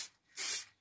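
A short hiss of spray misted onto plywood before resin is poured, rising quickly, holding for a moment and then fading, close and fairly soft.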